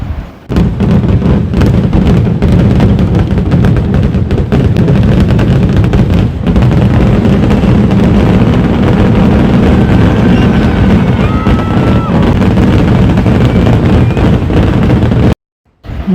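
A continuous, dense roar of Thiruvambadi's fireworks display at Thrissur Pooram, booming and crackling without pause at high volume, broken only by a brief moment of silence near the end.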